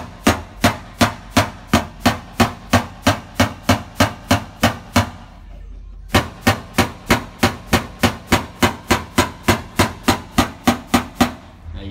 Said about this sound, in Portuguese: Ó, tá vendo o martelo caminhando, ó?